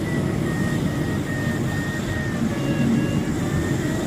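Steady drone of a Grob 109G motor glider in flight over King Mountain, Idaho, heard from inside the cabin as a constant engine and airflow hum with a faint tonal whine and no talking.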